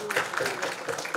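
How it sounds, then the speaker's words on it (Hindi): An audience at a studio show applauds, giving a brief, dense burst of clapping that blurs into a steady wash of noise and lasts only about a second. "तालियां इनके लिए हो जाए।"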